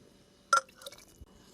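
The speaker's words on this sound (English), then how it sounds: "So we're just gonna scoop some of this out with the water" Cooked zucchini and its cooking water are scooped into a pitcher, producing one quick, close splash followed by faint drips in a quiet kitchen.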